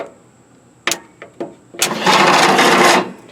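A Briggs twin-cylinder engine cranks slowly on jumper cables after a few sharp clicks and clunks, then a loud, labored churning drone for about a second before it cuts off.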